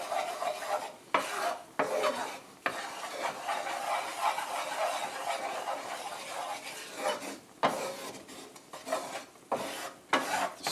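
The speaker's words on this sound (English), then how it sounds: "Mix that flour with that butter, so you're kind of creating like a roux." A spoon stirs a flour and butter roux in a pan for Swedish meatballs, making a continuous scraping, rubbing sound with soft sizzle and brief pauses between strokes.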